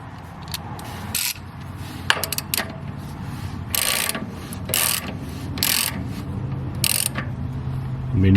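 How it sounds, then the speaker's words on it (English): A standard 1/2 inch ratchet tightens a filter cap on a SCAG ZT5400 zero-turn mower, giving close, bright clicking in quick bursts separated by brief pauses, with no voices. "This is just a standard 1/2 inch ratchet."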